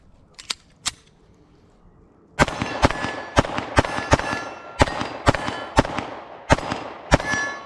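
A Sig P365 XL pistol fires at the range, about nine sharp, loud, evenly spaced shots in quick succession, after a few faint metallic clicks of handling.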